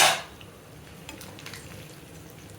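Dry-roast chicken sizzles and fries in a pan, a soft steady crackle that opens with a brief louder hiss and then settles, with a few faint stirring scrapes and no talking.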